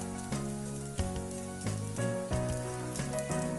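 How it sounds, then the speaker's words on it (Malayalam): Ground chicken tipped into a pan of browned onions, hissing and sizzling steadily with a few louder bursts and stirring scrapes, close and fairly loud with no voices. "ഇതിനകത്തേക്ക് നമ്മൾ നേരത്തെ ഗ്രൈൻഡ് ചെയ്ത് വെച്ച് ചിക്കൻ ചേർത്ത് കൊടുക്കുക"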